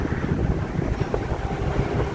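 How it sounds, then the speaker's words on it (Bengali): A breezy wind blows across a balcony under dark clouds, a steady close buffeting rush against the microphone with low rumble and no pauses. "খুব ফুরফুরে হাওয়া দিচ্ছে"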